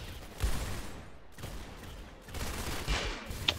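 Sniper rifle fire in a Roblox clown infection mode: a few sharp, widely spaced shots at moderate distance, each cracking out then decaying over about a second, with a quieter click near the end.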